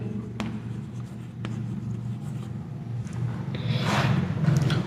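Marker or chalk writing a word on a board during a lesson, soft scratching strokes with a few short taps, growing louder and busier toward the end, over a low steady room hum without talk.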